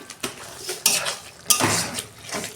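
Chicken pieces with a little gravy, sour yogurt and a few grains of sugar are stir-fried in a pan, the spatula scraping and clanking against the metal in two loud bursts over a soft sizzle.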